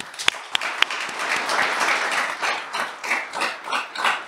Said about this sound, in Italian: con un applauso.